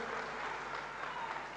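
Brief stretch of audience applause during a political speech in Nalasopara, a soft, distant wash of many hands clapping steadily.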